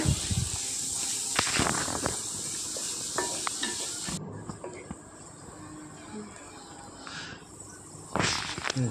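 Onions, green chillies and curry leaves sauté in hot coconut oil for a Kochi-style vinegar meat dish, a close, steady sizzling hiss broken by a few sharp clatters of stirring.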